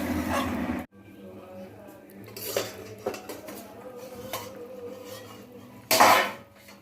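A metal lid goes onto a pot of thin fish curry with potatoes, giving scattered clanks and rattles of cookware, one loud metallic clatter near the end, amid quieter kitchen handling.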